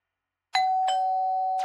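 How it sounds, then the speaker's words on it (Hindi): A cartoon doorbell rings out in a clear, loud electronic ding-dong, its first chime sustained while a second and third strike follow in quick succession, with no talk over it. "ये तो डोरबेल की आवाज है।"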